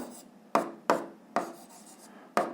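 Pen strokes scratch briskly across paper while an equation is written, four or five sharp scrapes separated by short pauses, close and alone.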